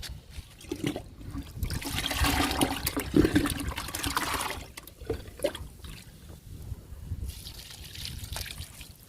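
Liquid fertilizer is poured onto a potted curry leaf plant, giving a close, splashing, trickling flow that runs for several seconds and then thins to scattered drips.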